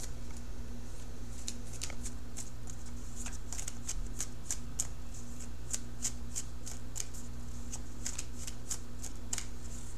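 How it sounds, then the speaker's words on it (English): Tarot cards being shuffled by hand during a love reading, a steady run of crisp riffling flicks and slaps over a low constant hum, close and fairly quiet. "let me shuffle for your outcome card"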